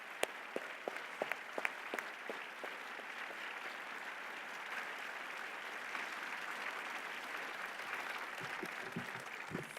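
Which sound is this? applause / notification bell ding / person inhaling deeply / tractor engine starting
applause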